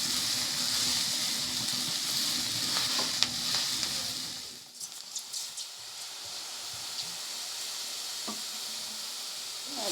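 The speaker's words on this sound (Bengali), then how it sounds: "এই দেখুন ওটসটাও কিন্তু এর সঙ্গে একটু ভেজে নেব" Oats frying in a pan for an oats bhurji, a loud steady sizzle with stirring scrapes for the first half, then a quieter, lower hiss with a few clinks.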